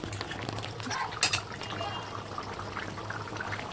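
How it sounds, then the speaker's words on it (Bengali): Mutton cooking in a pot in a home kitchen, with soft bubbling and liquid churning throughout, a low steady hum underneath and a brief clatter near the middle. "ও হচ্ছে এখানে মাংস রান্না করছে"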